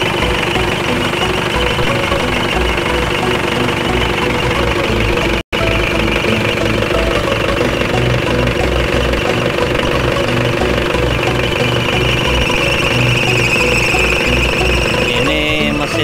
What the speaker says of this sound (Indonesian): Ini mesin Pajero,